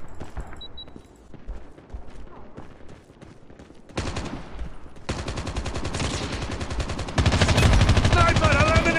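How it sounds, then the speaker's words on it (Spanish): Rapid automatic gunfire from a Call of Duty Mobile match, loud and continuous bursts that build in intensity, layered with game effects and background sound. "le estoy disparando"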